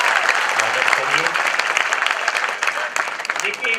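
Loud, dense applause from the audience at a JNU 15 August Independence Day celebration, steady and enthusiastic for about four seconds with a few voices mixed in.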